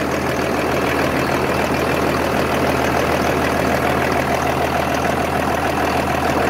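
A Massey Ferguson 8150 tractor with a Valmet diesel engine idles close by, giving a steady, loud, even rumble with a faint rhythmic knock and no one speaking.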